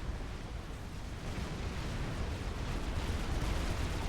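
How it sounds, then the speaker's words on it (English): Dense, continuous rumble of explosions from a Supreme Commander real-time strategy battle, a loud unbroken roar filling the whole stretch with no speech over it. "Explosion in the middle."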